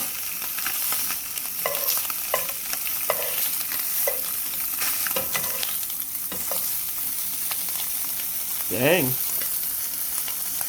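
Bluegill fish fry in oil to a golden crisp with a steady, close hiss, broken by scattered clicks of stirring. A voice says a single short word.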